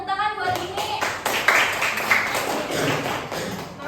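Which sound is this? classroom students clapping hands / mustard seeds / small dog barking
classroom students clapping hands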